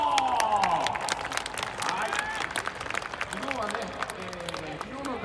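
Crowd applause and cheering in a baseball stadium during a home game against Hanshin, with music and an announcer's amplified voice mixed over the steady clapping throughout.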